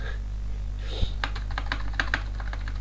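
Fingers type on a worn, sticking computer keyboard, a close, irregular run of sharp key clicks with one heavier thump, over a steady low electrical hum.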